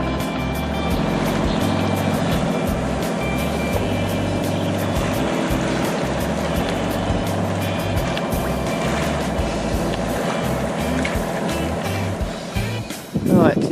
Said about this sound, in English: We've almost been becalmed and we're now motor sailing, well, motoring really.